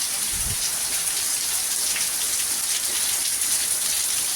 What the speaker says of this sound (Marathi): पाऊस कसा जोर जोर पडायला गेला आहे